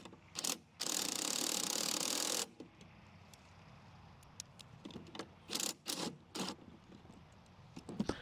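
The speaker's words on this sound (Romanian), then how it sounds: "Strângem mai întâi șurubul doar cu piulița pentru a-l forța să intre corect în locașul hexagonal." A wrench tightens a bolt with its nut on the blade holder of a Progarden Campo T12/T18 mini-tractor tiller: a quick ratcheting burst lasting over a second, followed by scattered close metallic clicks and taps.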